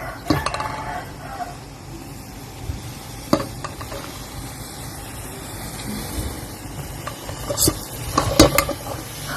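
Fish meat for a spicy larb salad stirred in a pan over heat, continuous scraping and clinking of a utensil against metal with a steady background hiss, a voice heard briefly.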